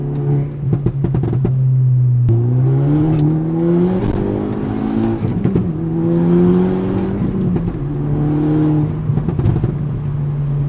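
A Stage 2 Volkswagen Golf R pulls hard from inside the cabin at night, its engine droning loudly and rising in pitch through each gear, with brief dips at the shifts before climbing again.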